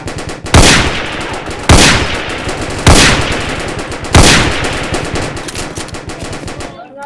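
Loud gunfire from a sniper and other guns in a Roblox shooter game, four heavy booming shots at roughly one-second intervals, each followed by a long rumbling decay, close and dominant, no talking.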